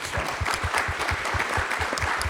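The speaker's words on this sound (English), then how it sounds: "So again, another round of applause for the city of Houston, our city." Audience at a panel event on Katrina's twentieth anniversary in Houston applauding, with a rhythmic, slightly uneven beat of hands carrying through the clip at moderate loudness.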